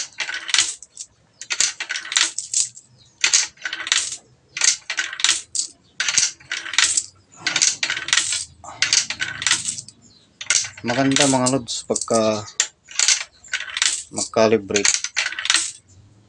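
Coins dropping one after another into a universal coin slot during calibration, a rapid series of bright metallic clinks in steady rhythm, with someone speaking briefly over some of them.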